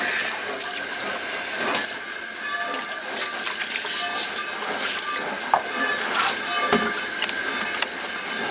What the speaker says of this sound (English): So I'm going to give it a rinse real quick.